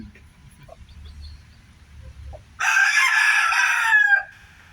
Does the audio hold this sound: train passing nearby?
no